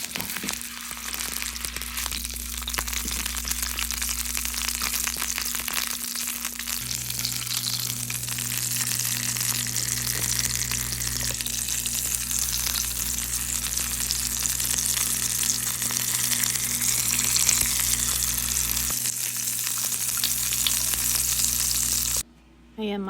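Uncured hotdogs fry in a pan with a continuous bright sizzle, steady and close, joined by a low hum and occasional stirring clatter, ending with a brief cut near the end.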